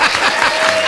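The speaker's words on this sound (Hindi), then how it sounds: "जोरदार तालियां" Loud studio audience applause at a comedy show, a dense continuous clatter of many hands clapping close by, filling the whole brief moment.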